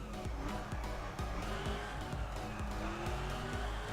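A supercharged car in The Crew racing game drones steadily with a high supercharger whine, with a repeating rhythmic engine pulse running underneath.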